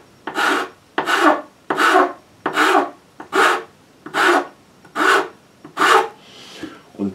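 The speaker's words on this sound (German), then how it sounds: "da nutze ich jetzt eine Feile." A hand file rasps across a small scooter part in eight firm, evenly spaced strokes, each a rough scraping burst followed by a short pause, close up with no talking.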